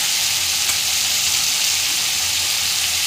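Tomatoes frying in a pan, a loud, dense, unbroken sizzle held close and steady throughout with no talking.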